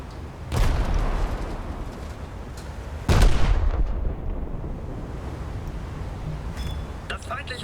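Two heavy, booming salvos from the Scharnhorst battleship's guns in a naval video game, loud and close, each followed by a long rumbling decay.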